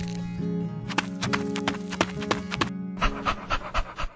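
A cartoon dog pants in quick rhythmic breaths, close and fairly loud, mixed with clip-clop-like thumps and animated sound effects, with no talking.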